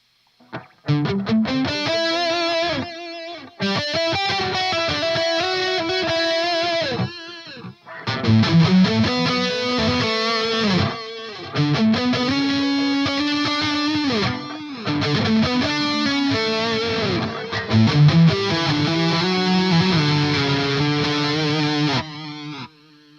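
Distorted electric guitar phrases ringing out alone through a Line 6 HX Effects unit, with sustained notes trailing into echoing delay repeats between short pauses.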